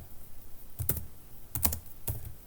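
Keys tapped on a computer keyboard while coding in Go, three short separate bursts of a few clicks each, close but quiet, with no voices.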